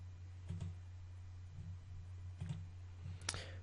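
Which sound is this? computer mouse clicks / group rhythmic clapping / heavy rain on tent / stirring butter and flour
computer mouse clicks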